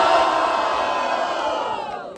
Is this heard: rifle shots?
no